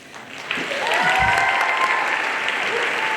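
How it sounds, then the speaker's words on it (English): A school award ceremony audience breaks into loud, sustained applause, starting with a few claps and quickly swelling into a full, steady wash of clapping. "We love to clap at Bullis."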